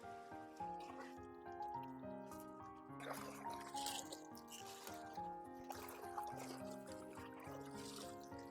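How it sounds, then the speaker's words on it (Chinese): Cabbage leaves spread out and rinsed in clean water, giving trickling, splashing and squishing sounds close by, with steady background music under them. "像我这样把包菜全部给它摊散开，然后再用清水给它清洗干净。"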